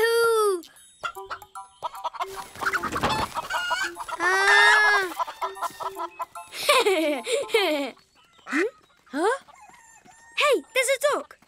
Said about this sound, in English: Hey, hey, chickens, yoo-hoo!